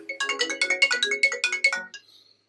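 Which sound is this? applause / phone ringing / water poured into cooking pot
phone ringing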